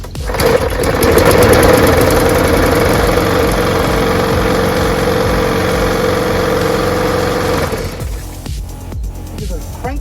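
A salvaged curbside lawnmower's small engine runs at a steady, loud idle for about eight seconds with a rough, buzzing rhythm, then cuts off abruptly and leaves a few faint clicks and rattles.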